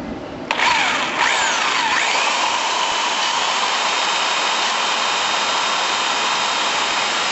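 A power drill starts abruptly and runs steadily at high speed, a loud continuous whine that holds without a break.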